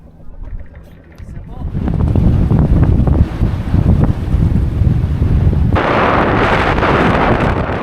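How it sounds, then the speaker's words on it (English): Strong wind gusting over a sailboat at sea in the Gulf, a loud steady roar of wind buffeting the microphone with water noise beneath, swelling harder and brighter toward the end. "the wind funnels through here like crazy"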